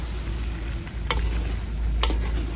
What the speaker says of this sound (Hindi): शलजमों की जो है अच्छे से हमने अब भुनाई करनी है